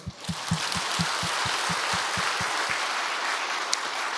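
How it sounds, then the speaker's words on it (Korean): Church congregation applauding during a Sunday service, a dense wash of clapping with a steady rhythmic beat underneath that stops near the end, leaving the applause to taper off. "우리를 구원하신 하나님 앞에 감사의 박수"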